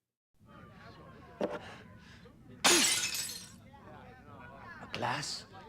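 Glass shatters in a Star Trek Klingon video game, a sharp bright crash standing out amid game dialogue, with smaller breaking bursts just before and after it.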